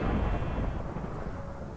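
Thunderstorm in the video game Minecraft: a loud, steady low rumble of thunder and rain that fills the whole short stretch without letting up.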